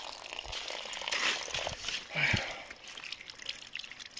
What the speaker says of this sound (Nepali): यो पानी उमर्ने पानी हो, मूलको पानी